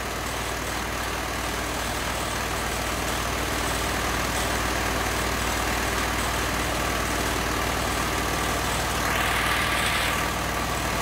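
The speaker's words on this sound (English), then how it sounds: "as it comes from proper vaporising carburettor back into a normally" An engine running on a GEET vaporising carburettor idles steadily, a loud, unbroken low rumble with a constant hum that holds for the whole stretch, with no voices over it.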